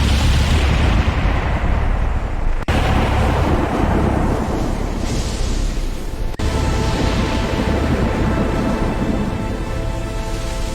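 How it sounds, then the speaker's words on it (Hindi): Heavy thunderstorm over a forest, loud continuous rain and rumbling with two sharp lightning cracks that cut through, the storm noise steady and close throughout. "देखते ही देखते भयानक तूफान उठ खड़ा हुआ।"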